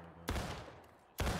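Rapid rifle fire from an infantry company, two sharp, heavy gunshot reports about a second apart, each followed by a fading rumble, fairly distant and otherwise quiet.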